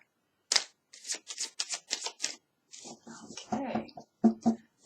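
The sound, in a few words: shuffling tarot cards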